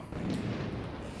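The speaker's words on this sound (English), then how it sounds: "Mortars are going to keep raining down." Heavy mortar explosions in the war video game Six Days in Fallujah, a dense, continuous low rumble of blasts lasting throughout, loud and booming with no clear gaps between impacts.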